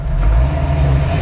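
A car fitted with new brakes and replacement tie rods accelerates up to 20 miles an hour during a brake test, its engine a steady, close, low drone throughout.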